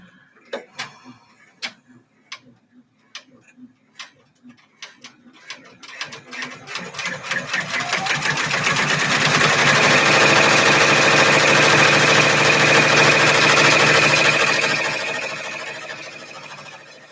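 Embroidery sewing machine stitching alone, starting with scattered ticks and short bursts that build into a loud, steady rapid stitching whir, then easing off near the end.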